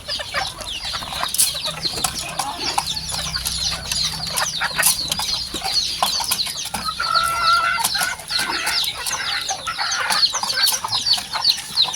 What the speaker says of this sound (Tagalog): Dami pang sisiw doon.